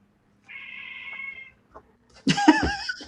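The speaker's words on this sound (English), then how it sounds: "that's my cat, Sasha." An agitated pet cat meows angrily indoors at something outside: a drawn-out whining call, a brief short one, then a louder, harsher yowl close to the microphone.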